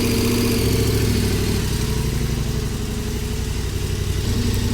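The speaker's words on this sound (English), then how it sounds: "Run it again for a little bit and then we'll put the bike back together as that's warming up." KTM 1290 Super Adventure R motorcycle engine, a 2021-or-later model, idling steadily after an oil change, a loud, close, continuous low rumble that holds even throughout with a slight drop in level.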